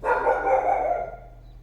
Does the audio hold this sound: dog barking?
yes